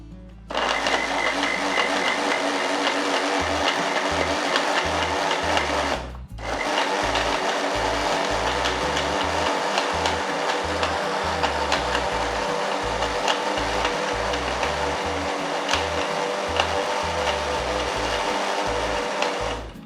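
A mixer grinder blends banana dosa batter with a loud, steady motor whir, a grinding rattle and a rhythmic knocking, running almost continuously with one brief pause near the start.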